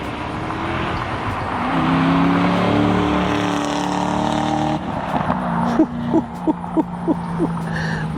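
A 2007 Corvette Z06 engine rumbles and revs with rising and falling tones, followed by several sharp, rhythmic bursts of revving close by.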